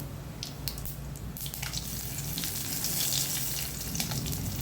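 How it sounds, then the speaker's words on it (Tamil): Mustard seeds, urad dal and dried red chillies crackle and splutter in hot oil while tempering for moong dal rasam, a steady close sizzle with scattered sharp pops. "கடுகு, உளுத்தம் பருப்பு நல்லா பொரிஞ்சதுமே ஒரு 2 காஞ்ச மிளகாவை கிள்ளி இதிலே சேர்த்துக்கலாம்."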